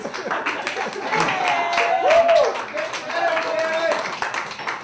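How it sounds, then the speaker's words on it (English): An audience at an NYC erotica poetry and prose reading claps to welcome the next feature performer; steady clapping fills the room for about five seconds while voices call out and talk over it. "Our next feature, clap it up for her."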